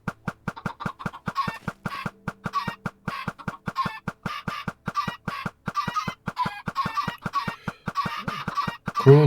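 Chickens cluck close by in a fast, steady run of short clucks that lasts throughout, with no talking.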